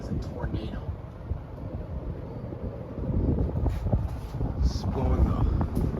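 A 1997 Casablanca Lady Delta 42-inch ceiling fan running on high gives a steady, close rushing airflow that swells louder halfway through, with someone talking over it.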